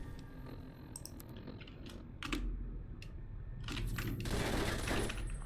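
Automated turrets fire in Fallout New Vegas as bursts of rapid gunfire, with sharp cracks building into a denser, louder volley toward the end over a steady game background.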